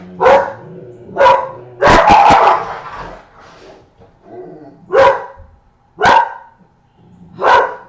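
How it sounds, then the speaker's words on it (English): A dog barks loudly in separate bursts, about six barks spaced a second or so apart, with a quick flurry of barks in the middle. "they just want to freak out and bark at everybody"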